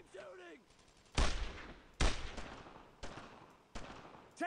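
Gunfire in the Brothers in Arms video game: several sharp, loud shots, each ringing out separately with a decaying tail, spaced roughly a second apart, with a brief voice near the start.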